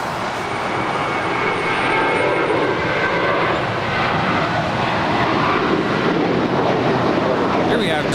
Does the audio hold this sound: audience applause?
no